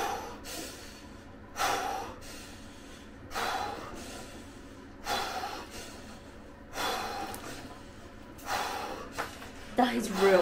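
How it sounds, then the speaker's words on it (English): Deep Wim Hof style breathing during ice bath conditioning: about six loud, forceful breath cycles in a slow regular rhythm, each a rushing inhale and exhale close to the microphone with quiet pauses between. "breathing."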